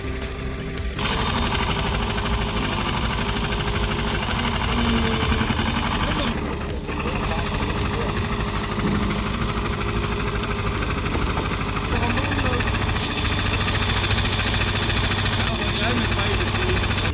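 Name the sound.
wood splitter engine running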